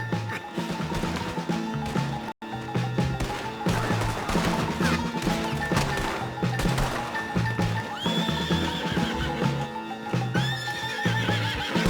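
Horses neigh and whinny loudly over the rapid clatter of galloping hooves, with a busy, layered soundtrack underneath, in the video game Red Dead Redemption 2.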